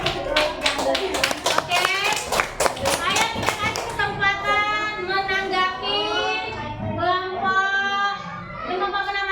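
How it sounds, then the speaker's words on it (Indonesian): Classroom group clapping, sharp and fairly close, fills the first four seconds, then children's voices and singing-like speech take over without further claps. "tepuk tangan untuk Indomaret"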